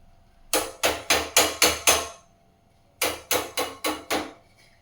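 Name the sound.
grating ginger for tea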